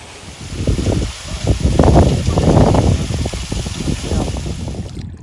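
Water from a waterfall at a hot springs cove on the west coast of Vancouver Island rushes and splashes close by, swelling in a loud burst before easing to a steadier churn.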